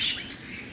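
Small birds at a bird store give a brief, high chirp up close, with faint squawking and room noise underneath.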